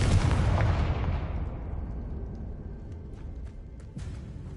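Confringo fire spell explosion in the video game Hogwarts Legacy, a loud, deep boom that rumbles and fades away, followed by a few faint clicks and a small thud, no voices.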